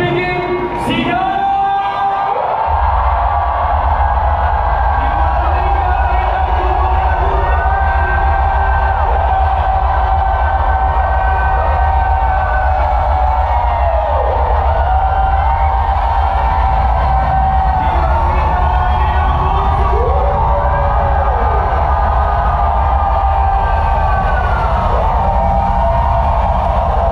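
A large political rally crowd cheers and shouts continuously and loudly, with waves of rising yells and whoops over a heavy low rumble throughout.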